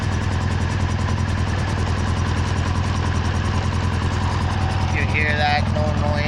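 Motorcycle engine idling in first gear with the rear wheel lifted, the drive chain spinning freely, a steady close droning hum with fine rhythmic ripple throughout; a voice briefly speaks near the end.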